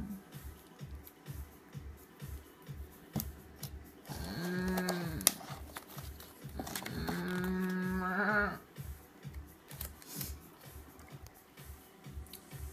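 Cattle in a herd mooing together, two long drawn-out lowing calls in the middle with quieter background noise and a steady ticking rhythm before and after.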